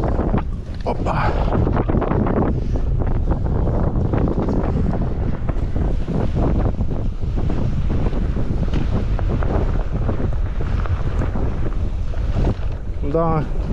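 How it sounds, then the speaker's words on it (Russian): Strong wind buffets the microphone steadily on the Yalta coast in April while riding an electric bike, a loud continuous roar with gusts throughout and a faint surf-like wash beneath. "Вот это ветер тут."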